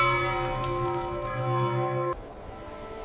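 A church bell in Novgorod hums with a steady, ringing tone and long sustained overtones, then cuts off abruptly partway through, leaving a quieter tail; no voices are heard.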